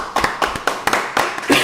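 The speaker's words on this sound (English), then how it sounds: "Let's clap it up." Claps from a small audience at a law class, a handful of separate sharp, loud hand claps in an irregular rhythm, with close room echo and no talking.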